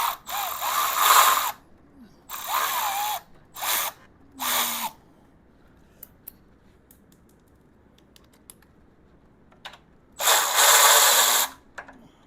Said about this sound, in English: Kind of nice to have the power tools.